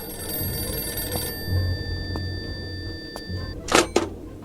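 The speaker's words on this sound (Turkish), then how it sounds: "Telefon." A telephone rings with a steady electronic tone over low background rumble and light movement, followed by a couple of sharp, louder knocks or clicks near the end.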